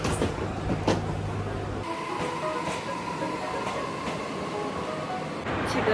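Rumbling interior of a moving train travelling between stations in Hokkaido, a steady rolling drone with faint rhythmic clicks and a brief hum, no talking.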